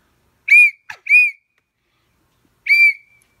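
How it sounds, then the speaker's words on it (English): A pea whistle carried as a bear deterrent gives two short shrill blasts, then a third after a pause, loud and close, with a small click between the first two. "you need a whistle to keep the bears away"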